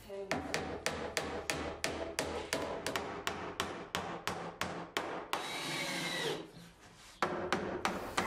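Screws are driven into the wooden cladding of a summerhouse, making a quick run of sharp, evenly spaced taps and clicks up close. A longer whirring burst follows, then one more clack.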